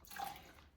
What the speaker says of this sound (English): I leave the water running. This is super hot water.